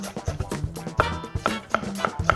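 A knife chops through Korean radish on a cutting board in quick, even strokes, about a dozen crisp close thuds in a steady rhythm.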